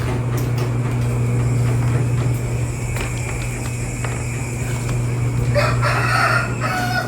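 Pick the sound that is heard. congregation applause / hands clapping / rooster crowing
rooster crowing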